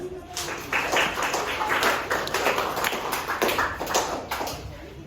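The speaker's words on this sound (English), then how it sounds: "Clap for that girl" A classroom of students claps for a girl, a dense patter of many hands going on steadily and fairly close, with a bit of faint talk underneath.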